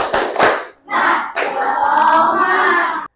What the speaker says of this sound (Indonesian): Coba sekarang semuanya tepuk semangat dulu.